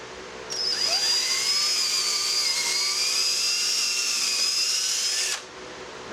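A power drill with new bits boring into epoxy resin on a boat, a loud high whine that spins up, holds steady for several seconds, then stops abruptly.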